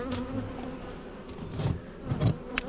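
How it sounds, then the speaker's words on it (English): Honey bees buzz around an open Langstroth hive during an inspection, a close, continuous droning hum with louder swells as individual bees pass near. "all these bees all clustered"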